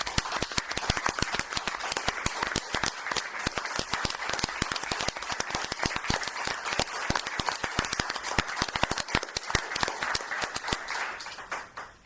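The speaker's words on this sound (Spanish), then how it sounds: "yo pediría un aplauso para ellos por el apoyo" A gathering of supporters at an eviction protest meeting breaks into sustained, dense applause, many hands clapping steadily for about twelve seconds before tapering off at the end.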